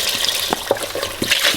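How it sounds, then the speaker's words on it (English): Chicken broth pours from a 32-ounce carton into a soup pot, making a close, continuous liquid gush with small splashes and glugs. "Now it's time to add the broth. We're gonna do 6 cups of broth, so 1 32-ounce carton."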